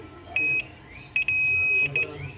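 A multimeter in continuity buzzer mode beeps in short bursts and one longer steady tone while probing a mobile phone board for shorts, over a low background hum.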